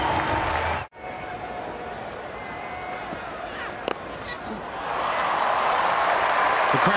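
Cricket crowd noise at a Birmingham Phoenix versus Manchester Originals match, a broad steady roar of spectators that swells louder toward the end after a brief dropout, with faint commentary-like voices mixed in.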